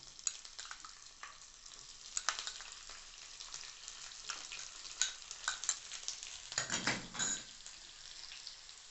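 Shallots go into hot oil in a pan, giving a steady crackling sizzle that grows louder and busier midway and then settles. Stirring and scraping can be heard close by, with no voices.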